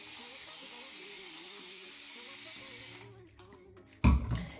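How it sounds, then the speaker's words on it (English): Water spray bottle misting onto curly natural hair, a steady soft hiss lasting about three seconds, then a brief handling bump, close to the mic. "And then I'm going to spray just a little bit more water."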